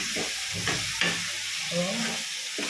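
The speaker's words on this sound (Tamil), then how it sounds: "இப்போ தக்காளி இதில் போட்டுடலாம் இதில் போட்டு நல்லா வதங்கணும்" Chopped tomatoes sauté in a hot pan for an egg curry, giving a steady crackling sizzle with soft stirring scrapes and brief bursts of hiss.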